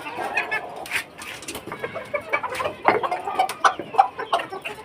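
Chickens kept on a home balcony cluck steadily and close by, with scattered sharper squawks over a low background of rustling and movement.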